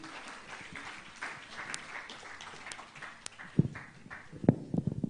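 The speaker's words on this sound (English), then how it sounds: "let's give him another applause for that well-appointed welcome address" Scattered applause at a democracy anniversary event in Abuja, fairly faint and thin clapping with a few sharper knocks and thuds near the end.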